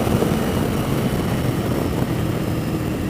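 A 1988 Yamaha XV1100 Virago V-twin motorcycle running at high speed, around 95 mph and 5,000 RPM, giving a steady, loud, continuous engine roar mixed with wind noise for the whole stretch, with no talking.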